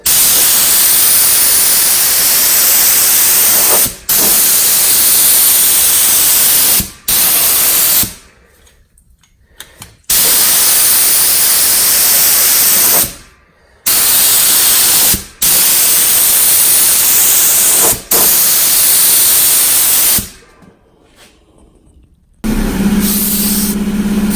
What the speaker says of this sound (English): So I'm gonna turn the material up, and then we're gonna go ahead and paint this.